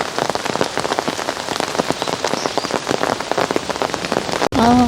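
Steady rain patters on a flowering May garden with lilacs and white peonies, a dense, continuous hiss of drops striking leaves and surfaces, close and even throughout, with a brief break near the end.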